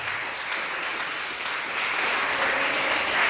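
Church congregation clapping in praise during a Portuguese Sunday Bible study service: a soft, even patter of hands heard from a distance, swelling slightly toward the end.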